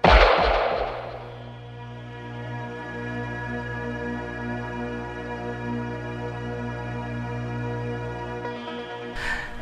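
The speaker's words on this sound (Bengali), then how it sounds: "একটা কান ফাটানো গুলির শব্দ" A single ear-splitting gunshot cracks loudly at the start of a thriller drama scene, then fades into a long, sustained ringing tone that lingers until a short burst at the end.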